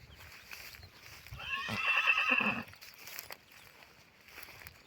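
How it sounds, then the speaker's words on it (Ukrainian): A stallion neighs once, a loud rising and falling whinny lasting about a second, with quiet rustling and faint background noise around it. "Такий є жеребець у Василі."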